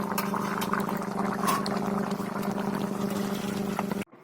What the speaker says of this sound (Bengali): তো বন্ধুরা আমার মাছের ঝাল কমপ্লিট এবার আমি পাত্রে নামিয়ে নেব